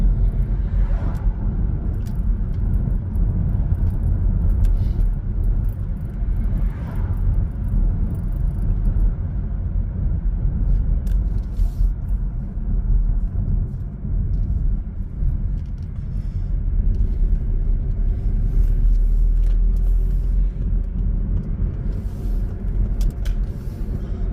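A car driving along a road, a steady low engine and tyre rumble sustained throughout with only slight swells, heard from inside, no talk.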